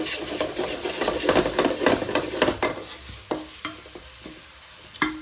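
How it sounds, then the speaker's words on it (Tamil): Onions sautéing with crystal and pink salt sizzle in a pan as a spoon stirs them, giving sharp scraping clacks that come quickly at first and then thin out to a few spaced knocks. "ஆனியன் நல்லா அந்த கிறிஸ்டல் மாதிரி நல்லா வதங்கணும்"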